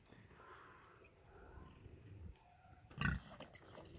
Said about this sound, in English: Here come some of the pigs.